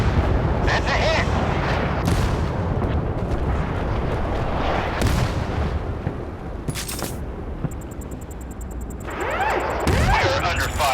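Warship artillery fire in the naval combat video game Force of Warships, a dense, continuous rumble of booming cannon blasts and explosions with several sharper bursts standing out, loud throughout under occasional game voice callouts.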